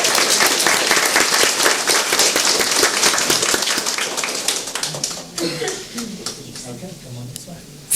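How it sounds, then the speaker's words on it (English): Middle school students at a school board of trustees meeting receive a round of audience applause: dense clapping for about five seconds, thinning into scattered claps with talk and murmuring underneath. "if we give our middle school kids another round of applause"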